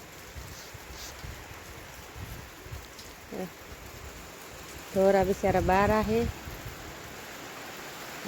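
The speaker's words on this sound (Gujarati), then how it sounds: "અમારે તો અત્યારમાં આજ વરસાદ શરૂ થઈ ગયો।" Soft, steady rain patters in the background while a person speaks briefly near the middle.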